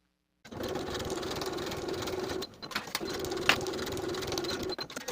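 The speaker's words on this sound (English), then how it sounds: "Sew both short ends of the ruffle with a 1/2 inch seam allowance" Sewing machine stitching the short-end seams of a fabric ruffle, a steady rapid whirring hum in two bursts with a brief pause between, close and moderately quiet.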